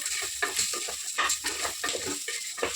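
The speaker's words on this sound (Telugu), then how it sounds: "నేను కొంచెం లైట్ ఇట్లా ఫ్రై చేసుకున్నాము" A chopped onion fries lightly in a pan with a gentle sizzle, while a utensil stirs and scrapes against the pan in rhythmic strokes close by.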